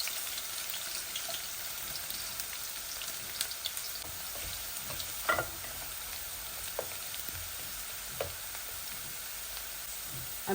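Onion tipped into a pan of taro stolons (kochur loti) with garlic, frying with a steady soft sizzle, with a few brief clinks and stirring noises over the crackle.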